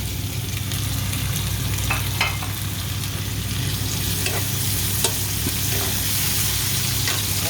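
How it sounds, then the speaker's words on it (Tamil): Chopped tomatoes frying with onions, ginger and garlic in a pan give a steady close sizzle, broken by occasional stirring scrapes and small pops throughout, with no voices. "இஞ்சி பூண்டெல்லாம் வெங்காயங்களோட எல்லாம் சேர்வட்டுட்டு இந்த சமயம் நான் வெட்டி வச்சுக்க தக்காளி பழத்தை போட போகிறேன்"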